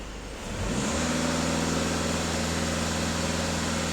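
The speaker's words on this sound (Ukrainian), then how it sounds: "Фіксую дані, даю газ в пол." A Skoda 2.0 TDI diesel engine pushed to full throttle, rising from a low idle into a loud, sustained, droning rev that holds steady for several seconds, heard close with no voices.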